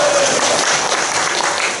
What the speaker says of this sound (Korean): 한번 박수로 정해 주시면